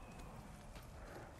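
A horse gallops in Ghost of Tsushima, its hoofbeats a steady, close clip-clop over a dense rumbling background, with no voices.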